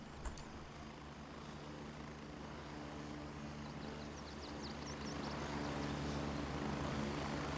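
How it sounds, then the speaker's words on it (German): Helicopter arriving in the video game Gray Zone Warfare, a steady rotor and engine drone growing gradually louder as it approaches. "Da kommt mein Hubschrauber."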